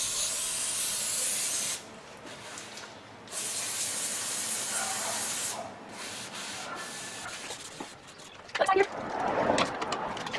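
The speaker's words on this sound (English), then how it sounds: "Spray this down with some more of the good stuff here." Aerosol brake cleaner sprays onto the front brake parts of a 2007 Chevy Malibu in several close, hissing bursts with short pauses between them, ending in rubbing and clattering handling noises.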